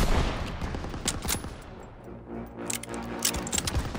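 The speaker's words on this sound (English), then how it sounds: "Fire on the MGs!" Dense bursts of gunfire and rapid machine-gun fire crackle in a Call of Duty Modern Warfare battle, irregular overlapping shots that are sharp and close at first and then thinner amid a steady hum.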